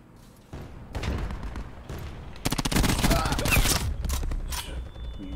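Gunfire in Call of Duty Black Ops 4, loud bursts of automatic fire and rapid shots in clustered volleys, with a player talking over the battle.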